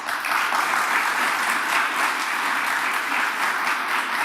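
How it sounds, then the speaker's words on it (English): An audience at a Martı stock exchange listing event in New York applauds, giving a dense, steady round of clapping that holds at an even level throughout. "everybody clapped before I said what I'm going to say"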